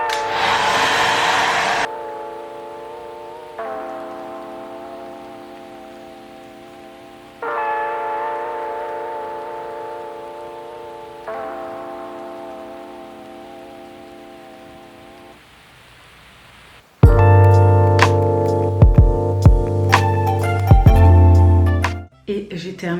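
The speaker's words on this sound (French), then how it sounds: "je vais basculer la tête en avant et je vais sécher mes cheveux" Hair dryer blowing on curly hair with the head tipped forward, a steady close whir that shifts pitch and level as settings change, ending in a louder, harsher stretch.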